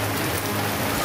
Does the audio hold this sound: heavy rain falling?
yes